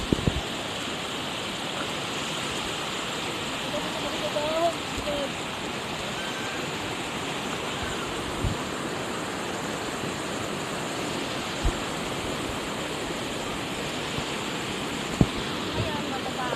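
A water current flows in a continuous, steady rush outdoors at an overnight spot, with a few faint knocks and small sounds over the constant wash.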